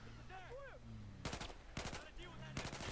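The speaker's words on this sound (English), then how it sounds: "he is getting suppressed by a big 50 cal" Bursts of heavy .50 cal machine gun fire in Battlefield 4, three loud rapid volleys separated by pauses, with a voice and whistling tones heard between them.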